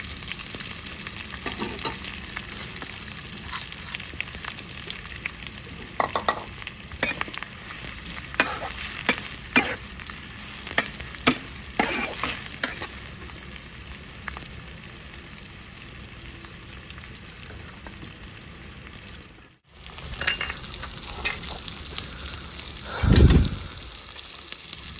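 Black mustard seeds and chopped onion frying in a pan, a fairly quiet steady sizzle with bursts of crackling and popping, a brief dropout, then a low thump near the end.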